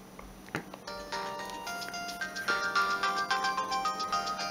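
A Samsung GT-E1080i budget phone plays a match-three puzzle game, giving a run of short electronic beeps and chiming jingle notes that quicken into a rapid rhythmic series of tones, clear and close with no talking.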